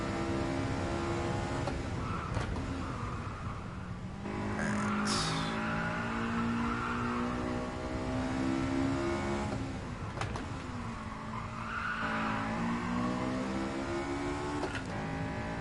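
Simulated car engine in GT Sport VR racing, revving steadily high with rising and falling pitch through gear changes and corners, continuous and close with no talk over it.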